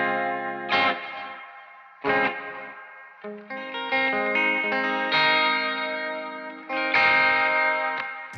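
Electric guitar through a Strymon DD-500 set to a lush chorus with compression and long reverb, playing sustained chords and swelling notes that shimmer and echo, loud and alone.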